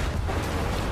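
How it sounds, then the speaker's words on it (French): Dynamite blows up in Far Cry 5 with a loud, broad roar that fills the short stretch from start to finish and shows no clear onset, like the middle of a sustained blast. "Une petite dynamite par là."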